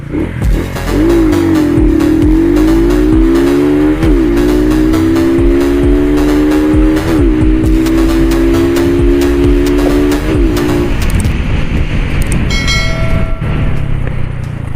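A Honda-design 150cc motorcycle engine revs up loudly through several gears, pitch climbing and dropping at each shift, close and continuous with wind noise.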